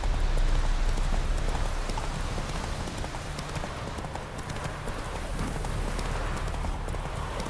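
Roach, Geralt's horse in The Witcher 3, gallops in a rapid, steady clip-clop of hooves, close and loud throughout, over a soft rainy outdoor ambience.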